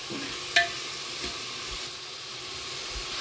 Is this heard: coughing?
no